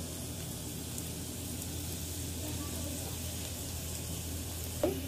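Spices sizzle in hot oil in a pan while making a Madurai-style potato gravy, giving a steady, moderate frying hiss with a brief clink near the end and no talking.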